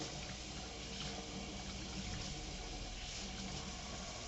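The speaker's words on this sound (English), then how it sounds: "Try with warm water. Give it a few extra seconds to warm up." Warm tap water runs steadily over hands at a sink, a continuous even hiss and splash at moderate distance, with no voices.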